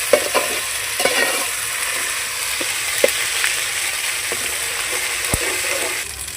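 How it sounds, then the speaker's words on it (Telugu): Ginger paste frying with onions in a pan for a fish curry, a loud close steady sizzle broken by repeated scraping stirs, no talk. "కొద్దిగా అల్లం పేస్ట్ వేసుకున్నాం కదండి, పచ్చివాసన పోయే వరకు దీన్ని ఫ్రై చేసుకోవాలి"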